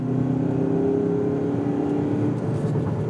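A car's engine revs hard under throttle during a driving demonstration with paddle shifters, a loud sustained whine that drops in pitch as it shifts up, then rises again.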